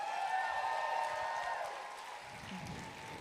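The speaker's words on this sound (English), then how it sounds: "Another round of applause for the Stonewall vets that were here this day" Applause for Stonewall veterans at an outdoor anniversary rally, a faint, distant crowd clapping that fades slightly over a few seconds beneath a steady tonal hum.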